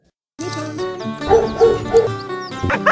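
Border Collie rescue dogs bark and yip in a quick run of short, close calls with whimpery tones, fairly loud and continuous after a brief silence.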